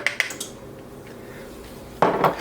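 A metal whisk clinks and scrapes against a bowl while flour is mixed in, with a few quick taps at first, a quieter stretch, then a louder burst of rattling strokes.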